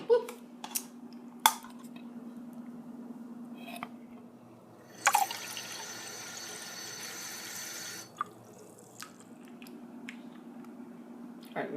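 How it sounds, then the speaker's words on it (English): Water pours into an emptied soup can while Dutch oven potatoes are being made. A faint, steady splashing rush lasts about three seconds, framed by scattered clinks and drips and no talking. "I like to fill it half full with water, not clear full"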